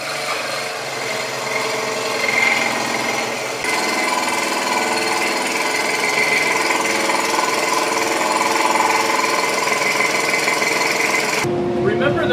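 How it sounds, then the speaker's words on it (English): Scroll saw making curved cuts in wood, running as a loud, steady, buzzing drone throughout with a brief shift in tone partway through. "I'm going to be using my scroll saw on that because it cuts a lot better on the corners"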